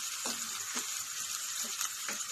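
Onion and garlic sautéing in hot oil for an aloo paratha stuffing, a steady close sizzle with a few soft stirring scrapes and no talk.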